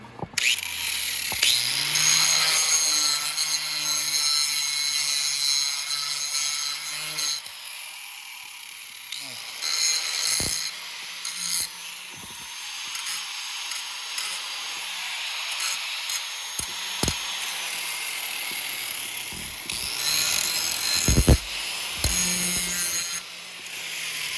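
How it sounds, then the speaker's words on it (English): An angle grinder without a safety shield cleans metal on a motorcycle exhaust, a harsh close whine with scraping, running in bursts with pauses and clunks between passes. "don't mind my grinder. It doesn't have the safety shield on it either."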